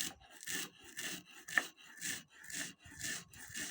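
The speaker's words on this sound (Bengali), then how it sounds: "আমি এই চাউলগুলো শিল পাটে বাটে বাটি নিতেছি" Roasted rice being ground by hand on a shil pata stone grinding slab, a steady rhythm of rough scraping strokes, about two per second, close and fairly quiet with no voices.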